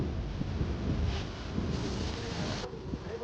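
Wind buffets outdoors by the sea at Malvan in a continuous low rumble, with gusts swelling and fading; no one speaks.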